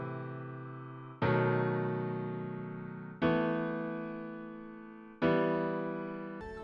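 Three sustained piano-like chords ring out in a progression, each struck cleanly and left to decay for about two seconds before the next one, with a fourth just beginning at the end, close and quiet with no voices.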